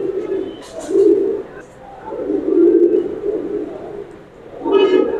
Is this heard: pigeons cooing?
yes